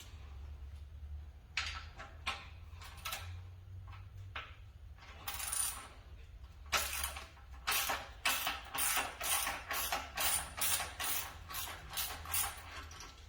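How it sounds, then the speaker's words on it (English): A wrench works loose the muffler clamp bolt on a Ninja ZX-10R, a run of close metallic ratcheting clicks that speeds into a steady, even rhythm, with no talking. "This is the clamp, and the bolt is right here. So I'm just going to loosen it."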